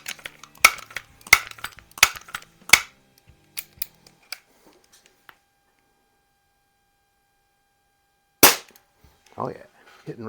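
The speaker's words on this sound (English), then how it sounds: "I just want to do a couple of test shots with it." A Crosman 1377 air pistol fires Crosman Premier hollow-point pellets. A quick series of sharp, close pops and clicks comes in the first few seconds, then a quiet pause, then one louder crisp shot and a faint rattle.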